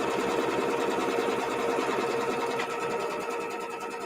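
An embroidery sewing machine stitching a quilt piece held in the hoop, a steady fast mechanical whirring hum with rapid needle chatter running on without a break.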